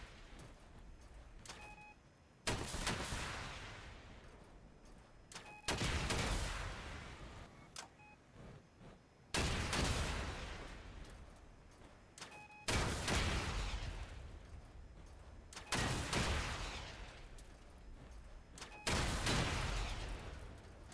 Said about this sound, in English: So right now, I'm gonna try this out with some locusts.